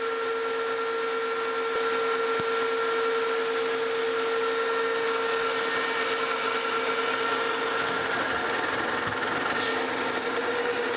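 A lathe makes a cut reducing the diameter of a metal V-belt pulley for a DoAll 26-inch vertical band saw, a steady loud motor whine with a tonal hum and a faint cutting rasp, continuous throughout with no talking.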